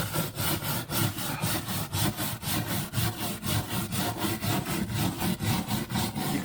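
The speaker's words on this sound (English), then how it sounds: "I'm going to need to cut more of this sound deadening away" Sound deadening material is cut away inside the footwell of a 1994 Range Rover Classic with a rusted bulkhead, giving a fast, rhythmic rasping saw-like scraping that repeats in close, even strokes.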